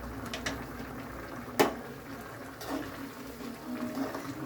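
Chicken curry bubbling in a pot, a soft steady simmer with a single sharp clink of a spoon or utensil against the pot partway through.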